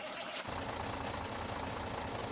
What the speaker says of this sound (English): this truck is super loud